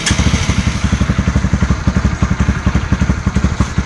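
A Honda CB150R motorcycle engine, fitted with a new LED and misfiring at high and low rpm, running at idle close by with a loud, steady, rapid pulsing beat.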